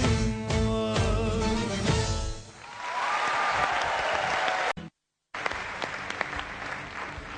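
An audience applauds a singer: music gives way to a swelling wash of clapping that cuts out briefly, then returns and carries on steadily.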